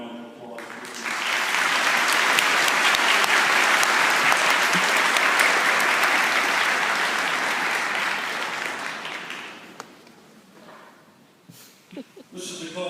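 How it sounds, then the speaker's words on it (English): Audience applause at a school string concert, a broad steady wash of many hands clapping that swells quickly, holds for several seconds, then thins and fades toward the end. "If you give them a round of applause."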